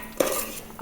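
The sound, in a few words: utensil stirring fish curry in a pan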